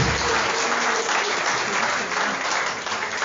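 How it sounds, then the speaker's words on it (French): A tribute gathering for Mamadou Mota gives the president a dense, sustained round of audience applause, loud and steady throughout with no pauses. "Est-ce qu'on peut encore applaudir pour le président?"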